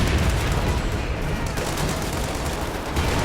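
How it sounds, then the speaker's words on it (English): Dense, continuous gunfire from soldiers, including machine guns, in a Company of Heroes 2 battle between US and German Wehrmacht/OKW forces, a loud sustained barrage of overlapping shots and explosions with no clear gaps. "Look at his men just shooting right there."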